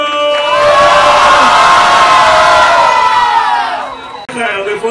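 A large crowd at a Brazilian rap battle cheers and shouts loudly and steadily for several seconds, then the roar fades as a voice cuts in near the end.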